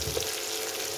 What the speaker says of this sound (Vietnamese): Rồi bây giờ mình xào để cho nó thấm, cho vào miếng tiêu để cho nó thơm.